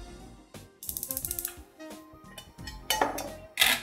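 A gas stove burner is lit in a home kitchen. A quick run of evenly spaced mechanical igniter clicks comes first, followed by scattered knocks and then a couple of louder soft bursts as the flame catches, heard close with no voices.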